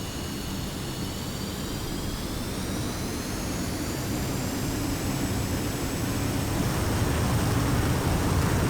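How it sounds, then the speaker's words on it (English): Northrop F-5 jet in a flight simulation game roaring down the runway on takeoff, a loud steady engine rush with a high whine that builds slightly in intensity over several seconds, no talking. "It feels so weird taking off in a plane."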